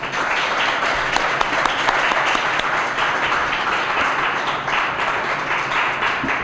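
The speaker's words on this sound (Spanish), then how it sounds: "Pido un aplauso para Germán Labrador" An audience in Córdoba applauds a guest speaker with a full, even burst of clapping that holds steady and loud from start to finish.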